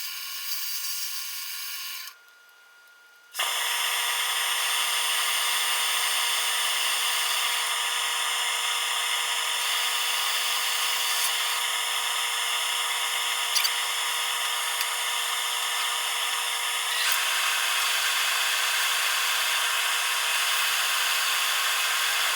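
A chestnut oak crotch bowl is sanded on a spinning lathe, producing a loud, continuous whirring hiss that drops out briefly near the start, then holds steady and close.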